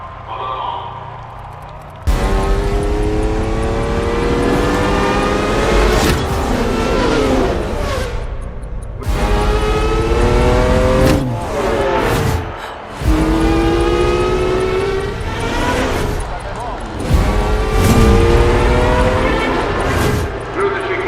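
Race cars at the 24 Hours of Le Mans in a film excerpt roar past in loud sustained engine passes with rising and falling pitch. Gear changes and brief gaps break up the sound, and narration runs over the engines.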